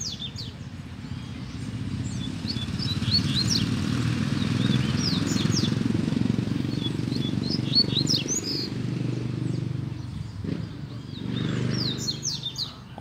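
A double-collared seedeater (coleiro) sings repeated bright, rapid whistled phrases, clear and fairly close, over a steady low rumble of background noise.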